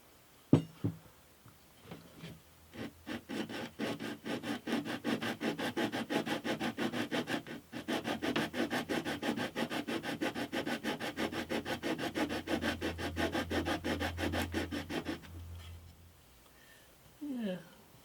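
Sanding a wooden neck to fit the truss rod on an acoustic guitar build: a steady, rapid back-and-forth rasp of abrasive on wood runs unbroken for about twelve seconds, close and fairly loud, with brief handling noises before and after.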